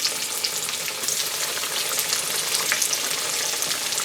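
Green tomatoes coated in barbecue-seasoned rice flour and cornstarch frying in hot oil, giving a steady, even sizzle with faint crackles, close and moderately quiet, with nobody speaking.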